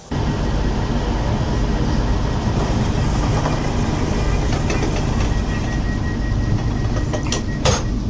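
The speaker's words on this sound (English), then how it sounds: "the Aberdeen to Penzance train pulls out for the very last time" Loud, steady rumble of the Aberdeen to Penzance train pulling out, a continuous close roar with faint clickety-clack of the wagons and a couple of high squeals near the end.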